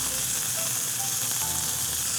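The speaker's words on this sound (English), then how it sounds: "I'm gonna put a bunch of different types of vegetables on the grill" A mix of vegetables sizzles on a hot grill, a constant, fairly loud hiss with no pauses and no voices.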